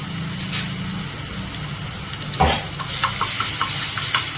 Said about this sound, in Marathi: मी ही ॲड करते अद्रक लसूणची पेस्ट छान अशी परतून घेणार आहे